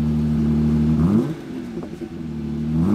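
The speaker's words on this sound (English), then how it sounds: "Now let's start the Jeep and hear what the cold start sounds like." A Jeep engine fitted with a cold air intake and aftermarket exhaust revs up on a cold start, loud and close, rising in pitch, dropping back, then climbing again.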